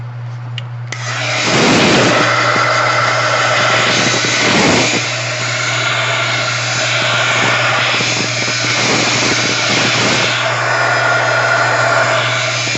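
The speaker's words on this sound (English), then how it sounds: "I'm going to use my heat gun to dry this" A loud, continuous roaring blast of blown air from a heat gun, steady with slight surges, close up over a low hum; no voices.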